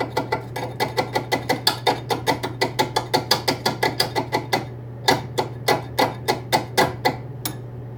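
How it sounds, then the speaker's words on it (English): A rust-welded C-clamp being rotated by hand, giving a close, sharp series of regular ratcheting clicks, about two or three per second, with a short pause before the clicking resumes, over a steady low hum. "even without the hammer, I'm able to rotate the C-clamp now"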